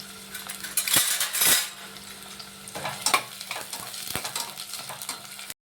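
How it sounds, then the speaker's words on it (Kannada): Onion, green chili, bay leaf and cardamom fry in hot oil in a pan, a steady sizzle broken by a ladle scraping and clinking against the metal. "ಈರುಳ್ಳಿ, ಹಸಿಮೆಣಸಿನ್ಕಾಯಿ, ಪಲಾವ್ ಎಲೆ, ಇದಿಷ್ಟನ್ನು ಸ್ವಲ್ಪ ಚೆನ್ನಾಗಿ ಫ್ರೈ ಮಾಡ್ಕೊಂಬಿಡೋಣ ನಾವು ಫಸ್ಟು"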